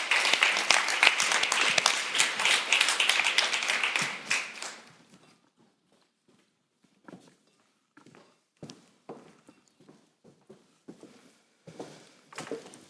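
Conference audience applauding a peacebuilding and mediation panel as the panelists walk up, steady clapping for about four seconds, then fading into scattered footsteps and small knocks in a quiet hall.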